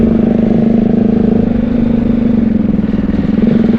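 A motorcycle with a high seat rides a dangerous mountain road from a village toward Almora, its engine a loud, close, steady drone with a fast rhythmic pulse throughout, with no talking.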